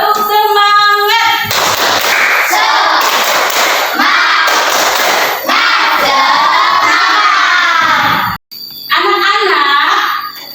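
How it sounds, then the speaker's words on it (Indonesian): Children in a Quran-reading class do the tepuk semangat clapping chant, loud shouted chanting voices in unison with rhythmic claps, a brief break near the end before a last burst. "Tepuk semangat."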